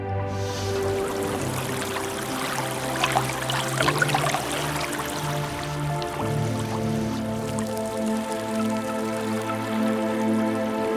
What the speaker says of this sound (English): By turning the sound of water waste into relaxing sounds, we reminded everyone of the problem.